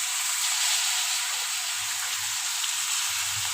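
Goinali greens hit a hot oiled pan and sizzle loudly, a steady, close, bright frying hiss that holds evenly throughout, with no talking.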